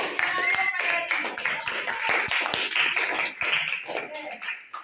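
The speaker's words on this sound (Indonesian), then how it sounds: "Yuk tepuk tangan semua untuk hasil kita pada hari ini." Students in a school laboratory classroom clap their hands together in steady, fairly loud applause lasting a few seconds, with voices mixed in around the clapping.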